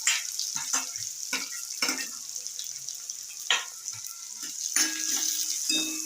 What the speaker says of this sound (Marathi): व्यवस्थित चमच्याने ढवळून घेऊया.